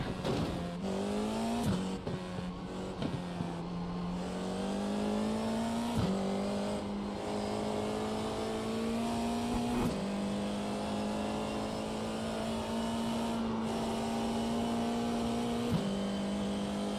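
A Porsche GT3 race car engine drones loud and close from onboard, its pitch rising steadily through each gear before dropping sharply at each shift, repeated several times over a constant mechanical roar.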